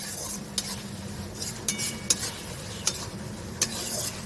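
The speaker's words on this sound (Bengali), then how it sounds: "এটা একটু ভাজা ভাজা ভালো মতন হবে।" Chicken frying with ginger and garlic in a pan, a steady sizzle under repeated scraping stir strokes and occasional sharp utensil clinks against the pan, close up with no voices.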